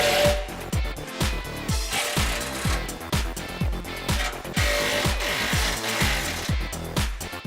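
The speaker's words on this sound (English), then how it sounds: "Now we're going to loosen the 2 clamps on the rear of our muffler." Repeated ratcheting and power-tool bursts as a 15mm socket loosens the two rear muffler exhaust clamps on a 2009-2018 Ram 5.7L, steady close-up mechanical rattling with rhythmic clicks throughout.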